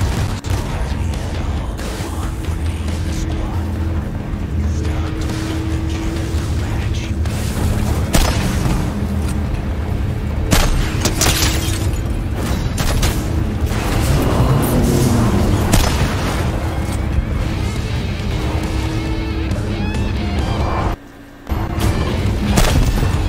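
Cannon blasts in a video game, repeated heavy booms and crashes rolling over a loud, dense backdrop of battle noise throughout, with one brief dropout near the end.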